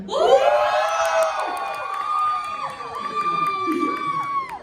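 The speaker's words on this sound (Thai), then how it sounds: "เราจะกี๊ดจนกว่าพี่พจน์จะมายืนอยู่ตรงนี้ค่ะ" A crowd of fans screams and cheers at a cinema fan event for teen actors in a shopping mall, with high-pitched shrieks and whoops rising and falling continuously, loud and close.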